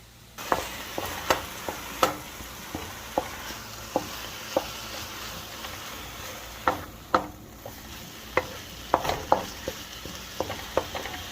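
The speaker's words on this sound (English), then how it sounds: "We're going to stir this up. Get it all combined." A spoon stirs a ginger mixture for egg roll filling in a hot pan, giving scattered close scrapes and clinks over a soft, steady sizzle with no talking.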